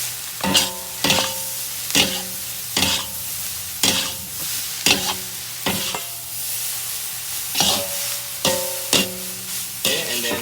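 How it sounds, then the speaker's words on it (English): Indonesian fried noodles (mie goreng) stirred and fried in a pan, a close steady sizzle punctuated by regular loud scraping strokes of the utensil roughly every second, with no one speaking. "Mix evenly."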